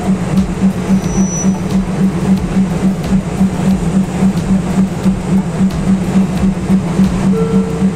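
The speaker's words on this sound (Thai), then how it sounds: "ขบวนรถเคื่อนี้ออกจากสถานีบางระมุงไปแล้ว" A passenger train pulls out of Bang Lamung station in Thailand, its wheels clicking in a quick, regular rhythm over the rail joints beneath a steady rumble, heard close and fairly loud.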